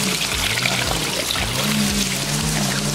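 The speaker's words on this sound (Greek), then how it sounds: "Για να πιούμε και λίγο νερό, έτσι, από τις πηγές εδώ, που αναβλύζουν" Water from a natural spring pouring and splashing steadily at close range, a dense continuous rush with no pauses, outdoors near waterfalls.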